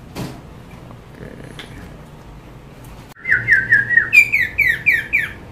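A samyong songbird sings a run of bright, repeated chirping whistles, close and loud, starting about halfway through after a quieter stretch of faint room noise.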